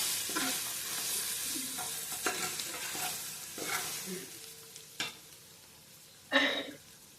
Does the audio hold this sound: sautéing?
yes